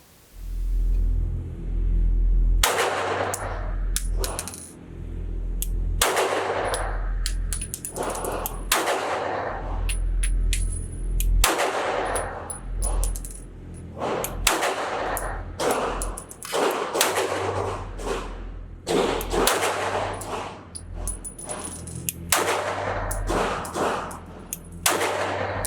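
A CZ P-10 C compact striker-fired pistol fires a long series of sharp, loud gunshots at an outdoor range, some in quick strings and others spaced apart, with crisp reports and echoing decay.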